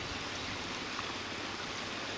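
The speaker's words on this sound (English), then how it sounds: "Fast flowing water, lots of weed here." Fast-flowing River Swale water rushes steadily through a weedy stretch, making a continuous broadband hiss and roar with no voices.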